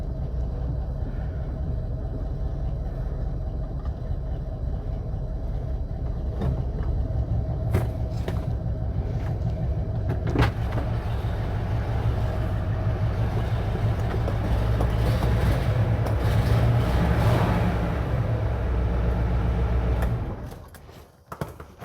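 A 1958 Oldsmobile drives along with a steady low engine rumble that stays close and even for about twenty seconds, with a few clicks and rattles on top before it suddenly drops away near the end.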